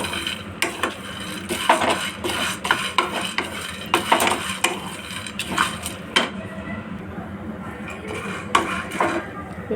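Ingredients being lightly roasted in a pan, with a steady run of close scraping and clinking of a utensil against the pan over a soft sizzle, continuing without pause.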